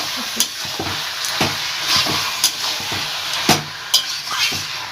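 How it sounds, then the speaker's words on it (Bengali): Chicken meat frying in a pan for a Bengali chicken curry gives a loud, steady sizzle, broken by sharp scrapes and clinks of a spatula as it is stirred. "মাংসটা এর মধ্যে দিয়ে ভেজে নেব"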